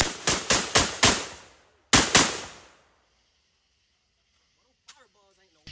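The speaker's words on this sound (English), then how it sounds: "More shots from the FN, 9mm." An FN 9mm pistol fires outdoors in a quick string of four sharp cracks, then a fifth after a short gap, each with a rolling echo tail, followed by near silence and faint distant voices.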